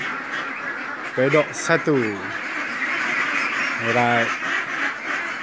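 White ducks in a pen on a duck farm give a few loud, close quacks in short bursts, mixed with a man's speech amid steady background noise.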